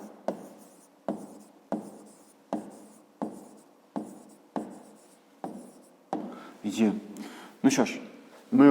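Pen or pencil writing on paper in regular, evenly spaced strokes, close and distinct, turning into faster scribbling near the end, with a voice speaking faintly at times.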